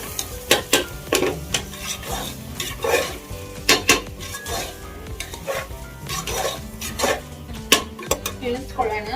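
Chicken dry fry sizzling in oil in a pan, wedding-style, with frequent loud scraping stirs and clinks of a utensil against the pan throughout, a steady frying hiss underneath.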